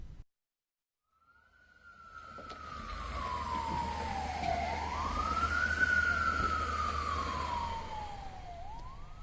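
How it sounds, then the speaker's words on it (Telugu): Air raid sirens wail across Israel during an Iranian missile attack, a loud, steady rising and falling tone that swoops down and back up over several seconds against a low rumble. "ఇరాన్ క్షిపణుల రాకతో ఇజ్రాయెల్ వ్యాప్తంగా సైరన్లు మారుమోగాయి."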